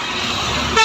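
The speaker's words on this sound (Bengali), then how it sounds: "খুব গাড়ি ঘোড়ার চাপ" Heavy traffic on a highway roars steadily, and a loud, close vehicle horn blares briefly at the very end.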